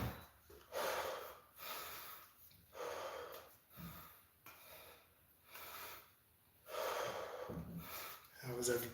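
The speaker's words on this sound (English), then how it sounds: "Just gonna catch my breath for a minute." Heavy, rhythmic breathing from a person catching their breath after exercise, with repeated loud inhales and exhales close to the mic over about nine seconds.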